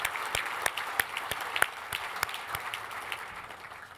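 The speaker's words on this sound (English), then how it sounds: "Please join me in another round of applause for Team Schwab." Gala audience at a Fallen Patriots fundraiser applauds warmly, a full room of clapping with sharp individual claps standing out near the front, gradually thinning and fading toward the end.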